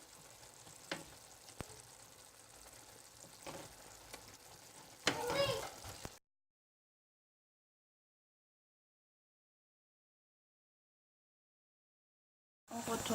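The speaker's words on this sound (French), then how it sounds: "j'ajoute les boulettes de viande hachée" Minced-meat meatballs sizzle and fry in a tomato, onion and garlic tagine sauce, a steady close crackle with stirring knocks, swelling louder briefly before a long silence and a short return of sizzling at the end.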